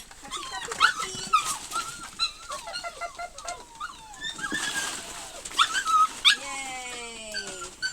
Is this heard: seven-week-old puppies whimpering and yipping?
yes